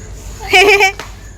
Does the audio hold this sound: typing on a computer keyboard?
no